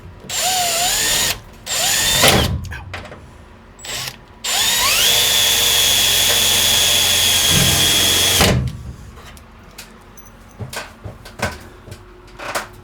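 Power drill driving screws into wood while a storage box shelf rack is assembled, several loud close whirring bursts, including one long run of about four seconds, separated by pauses with faint handling clicks.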